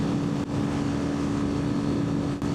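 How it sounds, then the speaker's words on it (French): Yamaha Fazer FZ25 motorcycle engine held at full throttle near top speed, a steady loud droning whine with constant pitch and wind rush, continuous throughout with no talk. "Tu sens le moteur hurler, regarde."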